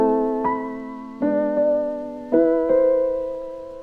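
Lo-fi piano melody treated with RC20 retro effects, a few sustained notes struck in a slow, unhurried pattern, warm and slightly hazy, steady in level with nothing else playing.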